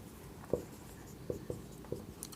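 Chalk or marker writing on a classroom board during a physics lesson, several short faint taps and strokes spaced irregularly, close by, with no talk.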